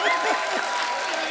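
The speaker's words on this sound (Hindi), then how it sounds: "हर सीन में ऐसा ताली बजाना पड़ता है यार" Audience applause in a comedy show studio, a steady wash of many hands clapping throughout, with some voices mixed in.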